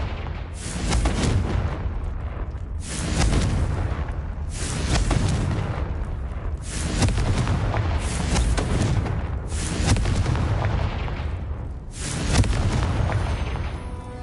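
Confringo spell blasts in Hogwarts Legacy explode as booming bursts about every two seconds. Six or seven loud, even detonations each fade into a short rumble before the next one hits.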